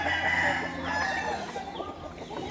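A fighting cock crows loudly and close by, one sustained call stretching across the moment with clucking and faint farmyard noise underneath. No one talks.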